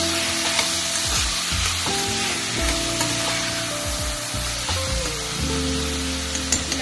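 Soaked black-eyed peas are stirred in a frying pan for a potato curry, giving a steady bright sizzle with repeated low scraping strokes and light clatters from the spoon throughout.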